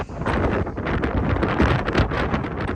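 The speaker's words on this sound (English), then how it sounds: "Wind slowed down quite a bit." Steady loud roar of wind during a duststorm around a workshop with a tin roof, with gusty broadband rushing and buffeting on the microphone throughout.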